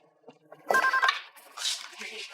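A telephone gives one short electronic ring burst in a quiet room, with a voice speaking faintly around it.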